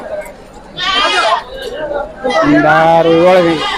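Young rams bleat loudly and repeatedly at a busy sheep and goat market in Hunsagi, with nearby voices and crowd chatter mixed in.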